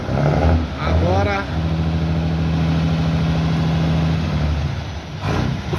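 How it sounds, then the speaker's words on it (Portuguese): A Mercedes-Benz 1621 truck's diesel engine, with injection timing just adjusted, idles with a steady low hum, close by, while a voice speaks briefly at the start and end. "o funcionamento do motor, não o barulho do escapamento, o funcionamento ficou mais bonito."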